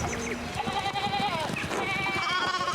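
Sheep bleating in the village scenes of the video game Pentiment, several overlapping wavering cries over a busy game soundtrack with voices talking throughout.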